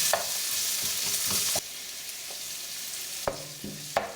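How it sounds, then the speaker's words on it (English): Spices and garlic paste frying in a pan for jeera potatoes, a steady hiss of sizzling with occasional stirring clicks and scrapes, close and continuous with no talk. "With our spices frying off"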